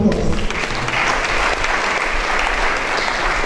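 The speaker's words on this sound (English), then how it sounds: "can we give them a big round of applause?" Loud, close applause from a large audience at a matriculation ceremony. A brief voice sounds at the start, then the crowd claps in a dense, even burst.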